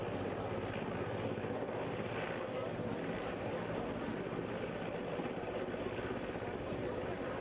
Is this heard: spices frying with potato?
no